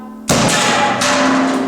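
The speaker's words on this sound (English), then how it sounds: "The effect of the explosion was far more aggressive this time." A pyrotechnic charge fires during a drogue parachute separation test on a Copenhagen Suborbitals Tycho Deep Space capsule, giving one sudden, very loud close blast followed by a sustained rushing roar that swells again partway through.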